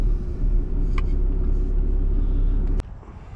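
A car drives along with a steady loud engine rumble and road noise throughout, which drops abruptly near the end, with no talking.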